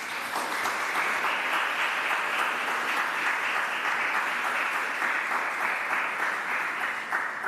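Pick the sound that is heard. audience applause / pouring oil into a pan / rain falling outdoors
audience applause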